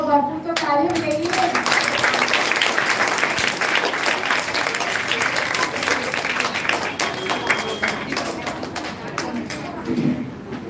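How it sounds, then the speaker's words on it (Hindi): Sustained, dense applause from an audience at a school Independence Day celebration, clapping for performing students, loud and continuous throughout with some children's voices mixed in. "ये बच्चे हकदार हैं तालियां हो भरपूर, तो तालियां मिलेगी"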